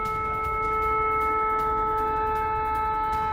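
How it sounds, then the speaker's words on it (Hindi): Air raid sirens at an airbase sound continuously, a loud sustained multi-tone wail holding steady throughout with no talk. "किस तरह से ये एयर सायरन लगातार बज रहे हैं"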